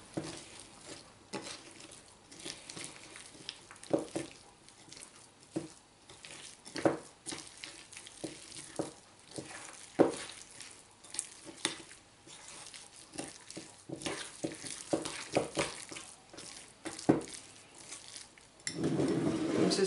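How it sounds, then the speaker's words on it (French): A cereal mixture stirred in a bowl, irregular soft squelching and scraping strokes repeating close by, moderately quiet, with no talk. "Et on mélange le tout."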